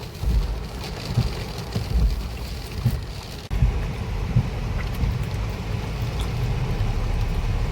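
Steady rain drums on a car during a drive in stormy, windy weather with traffic slowing, a continuous dense wash of patter and wind noise with a few low thumps, fairly loud and without voices.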